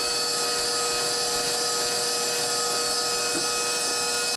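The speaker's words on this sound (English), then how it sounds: "So I'm going to put it in to our hand mixer with the whisk attachment." A hand mixer with a whisk attachment whirring steadily through cream, a constant high-pitched motor whine held at even loudness throughout, with no talk.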